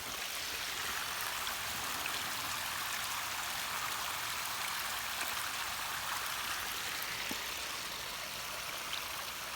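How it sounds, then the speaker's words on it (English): Water spills steadily from a ditch beside a rain-swollen pool in a small waterfall, a constant close splashing rush that runs on alone without voices. "Nice little waterfall going now."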